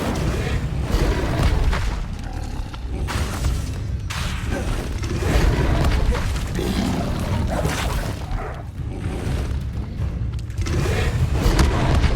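Incendio fire spell cast during Hogwarts Legacy gameplay, heard as dense, continuous booming thuds and whooshing bursts that rumble loudly throughout, with a faint voice now and then.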